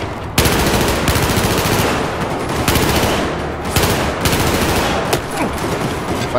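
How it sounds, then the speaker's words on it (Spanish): Gunfire in the Battlefield 4 campaign's South China Sea mission: loud, sustained automatic bursts with rapid repeated cracks and short pauses, close and dense throughout, no talk over it. "¡Me disparan por todos lados!"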